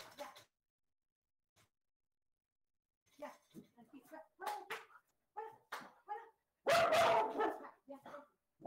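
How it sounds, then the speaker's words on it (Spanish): A small dog that has wandered into a house barks and yips in scattered bursts, close and fairly loud indoors, alternating with quiet gaps, with a person's voice mixed in among the barks. "Espérenme, que se me entró un perrito a la casa."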